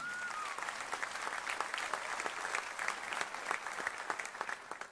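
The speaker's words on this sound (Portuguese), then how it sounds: "Uma salva de palmas para o Vaguinho." Applause from a church congregation rises as dense, steady clapping with scattered sharper claps, heard faintly at a distance without any voices.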